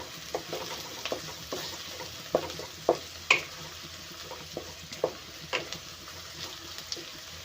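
Onion and green chilli frying briefly in a pan while making noodles, a faint low sizzle under a series of light spatula taps and scrapes at an irregular pace, close but quiet, with no one speaking.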